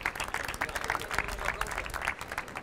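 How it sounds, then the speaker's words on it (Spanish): Audience applause at an entrepreneurship and green jobs event; steady, moderately quiet clapping from a small crowd fills the short stretch. "Un aplauso a Elio."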